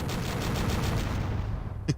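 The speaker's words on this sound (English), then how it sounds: "Vulcan cannon is like a machine gun shotgun." A Vulcan cannon in a retro video game fires a rapid burst of evenly spaced, dense shots for over a second, then stops, followed by one brief sharp report near the end.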